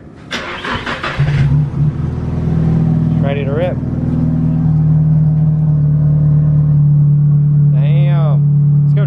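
A right-hand-drive Nissan S13 Silvia drift car cranks briefly and fires up, then settles into a loud, steady close-up idle rumble, with a couple of short revs blipping over it and someone speaking briefly at the start.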